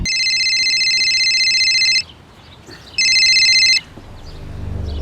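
A telephone rings twice, each bright electronic trill lasting about two seconds, separated by a short quiet pause, loud and near.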